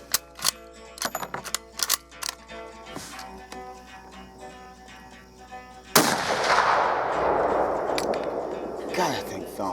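A single heavy, thumping shot from a Berthier M16 cavalry carbine on an outdoor range, a sharp blast that rolls into a sustained echoing rumble after scattered quieter clicks and handling noises.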